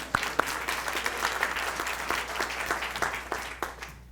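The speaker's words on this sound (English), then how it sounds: "applause to them" An audience at a presentation applauding, dense steady clapping with a few sharper individual claps standing out, no talking over it.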